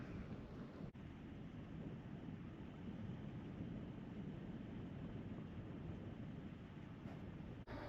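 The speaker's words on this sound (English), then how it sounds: "The wind's blowing out of the north." Cold north wind at 32 degrees sweeps across the Great Salt Lake at Antelope Island, a steady roaring rush that buffets the microphone throughout with no one speaking.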